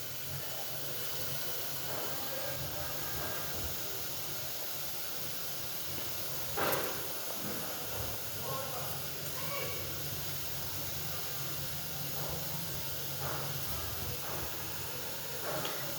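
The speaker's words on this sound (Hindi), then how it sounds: "इसको हम प्रेशर कुकर लगा देंगे ताकि ये जल्दी गल जाए।" A pressure cooker of beef liver hisses steadily on the stove, a continuous low steam rush with faint clicks and a brief louder burst partway through, moderately quiet and without talk.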